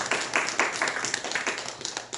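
Members of a church congregation clap in thanks during a sermon, a short run of quick, fairly rhythmic hand claps from a small group, close and clear, with no voices over them.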